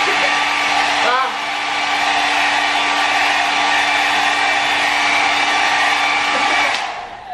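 A Kris travel hair dryer rated at 600 watts blows a loud, steady rushing whoosh at close range for several seconds, with a faint click near the start before the airflow fades out at the end.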